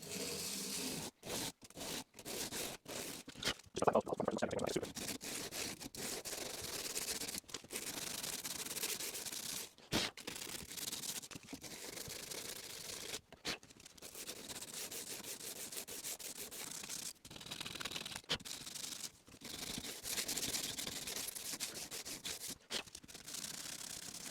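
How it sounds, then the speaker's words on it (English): Steady scratchy rubbing of a sanding block with 120-grit paper on a wooden guitar body being built, continuous strokes broken by brief pauses, close and fairly loud with no talking. "sanding block."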